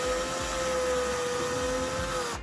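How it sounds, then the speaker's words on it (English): A power drill with a Phillips bit whines at a steady, high pitch, driving a screw to fasten an alarm system's wall mount into wall anchors, close and loud throughout before it winds down at the very end. "Then using a Phillips head drill bit or Phillips head screwdriver, screw the mount into those anchors"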